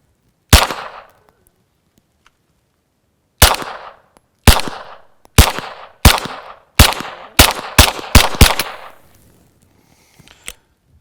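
Pistol fired through a Gemtech Lunar 9 suppressor with Remington UMC subsonic ammunition: one shot, a pause, then nine sharp reports in an accelerating string, loud and close, outdoors with no talking.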